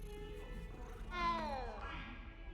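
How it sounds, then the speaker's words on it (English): A pet cat in Hogwarts Legacy gives a short meow, a brief rising-and-falling call heard faintly over quiet game background and low talk. "Ooh, a cat. I like cats."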